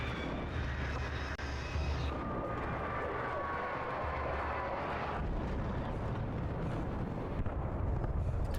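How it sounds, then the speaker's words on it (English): A police helicopter passes overhead in the video game Alan Wake Remastered, a steady low rotor and engine roar with rushing wind that holds throughout, swelling slightly as it goes by. "Oh, there goes the police helicopter."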